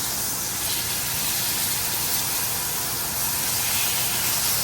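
Steak searing in a hot pan gives a loud, steady, broadband sizzling hiss that runs unbroken from start to finish with no voices.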